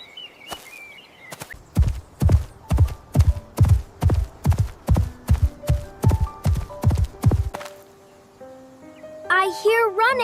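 Rapid, evenly spaced thuds of an ostrich running, about a dozen heavy footfalls in quick rhythm that stop abruptly, followed by a voice speaking.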